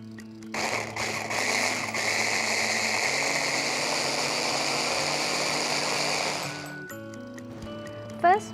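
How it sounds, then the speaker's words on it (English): An electric kitchen blender whirs steadily for several seconds as it purees lemongrass, galangal, garlic, shallot and cooking oil for satay sauce, a loud even motor roar that cuts off abruptly near the end. "First, we need a blender."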